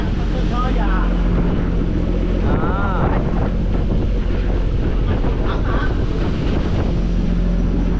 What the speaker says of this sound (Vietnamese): Sống gió ghê không cả nhà.